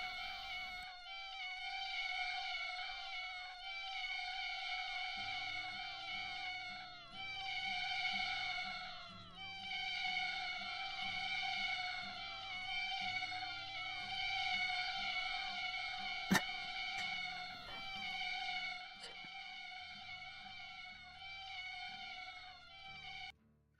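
Cartoonish cat meows from a Godot game-jam game about a cat lady, repeated high tonal mews stacking and overlapping almost continuously over a low droning background, with a brief click partway through.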